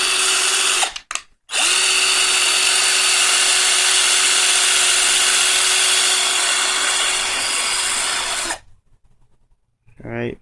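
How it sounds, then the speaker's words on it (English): A power drill bores shavings out of a Gundam Zaku plastic model leg, a loud steady whine that runs close-up for about eight seconds after a brief stop and restart near the start, then cuts off. "Try with this drill again."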